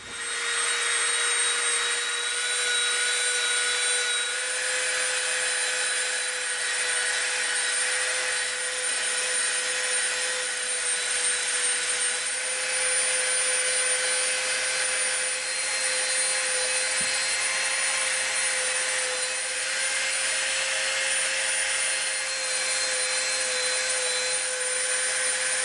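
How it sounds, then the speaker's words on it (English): A Dremel rotary tool runs continuously while beveling the edge of an EVA foam piece, a loud steady high-pitched whine with a faint grinding texture and no talking. "Now we're gonna get out our Dremel. We've got our dust mask on. We're gonna soften the edge around both sides."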